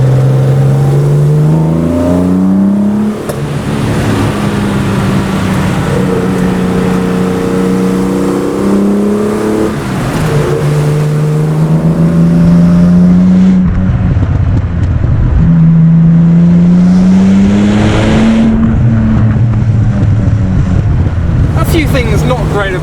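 A Jaguar E-Type's engine pulls strongly through the gears, its loud rising and falling drone climbing with each shift in repeated sweeps across a long run, with no voices.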